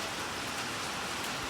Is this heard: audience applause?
no